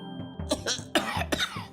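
Several dry coughs in a row during a radio advertisement for a lagundi-based cough capsule, close and fairly loud with short gaps between them and no speech.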